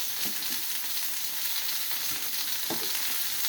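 Asparagus sizzles gently as it warms in a frying pan, a steady soft crackle with a few light stirring knocks.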